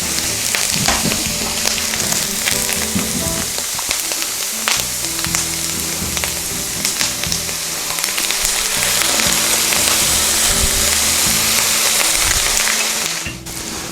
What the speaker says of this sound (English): I'm going to rinse this with some balsamic vinegar